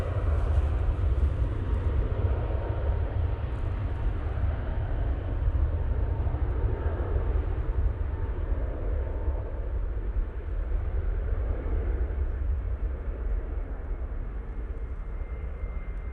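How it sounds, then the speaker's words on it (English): A Jet2 airliner departing Manchester Airport roars steadily during takeoff, a broad, loud engine rumble that slowly fades as it moves away. "plane you can hear going out is the Jet 2 to Alicante."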